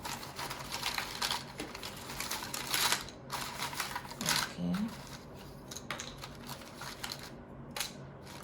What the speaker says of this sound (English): let me first shuffle nicely the alphabets